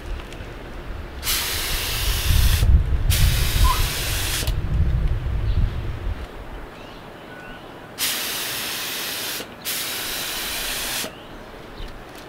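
Spray paint applying a first orange coat on a Kia Stinger GTS hisses in four close bursts, two early ones over a low rumbling background and two later ones in quieter surroundings, each lasting one to two seconds.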